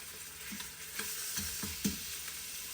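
Food sizzles steadily in a hot pan, with a few soft clinks and scrapes of stirring at irregular intervals.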